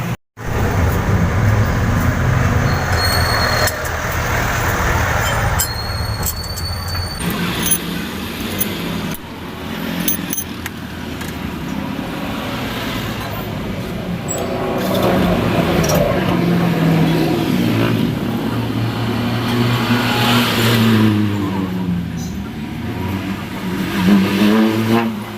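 A rebuilt Isuzu 4BE1 diesel engine, fresh from a cylinder head gasket, piston and piston ring job, cranks and runs loud and close, revving up and down steadily with a rough diesel clatter throughout.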